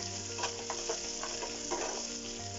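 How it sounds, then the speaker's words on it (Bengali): Chopped tomatoes with garlic sizzle in a pan for a mixed vegetable curry while a utensil stirs them, giving scraping bursts over a steady frying hiss, close and without speech. "এবং টমেটো অ্যাড করব। অল্প করে নেড়ে চেড়ে নিতে হবে।"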